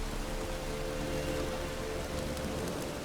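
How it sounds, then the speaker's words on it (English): Rain falls in The Witcher 3 video game, near a swamp. It makes a steady, dense patter throughout with no voices. "Looks like rain."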